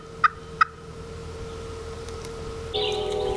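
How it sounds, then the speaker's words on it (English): Wild turkeys gobble twice in quick succession from a distance on a hunting morning, two short sharp bursts, followed by a steady higher hiss or call near the end. "And they gobble pretty good this morning"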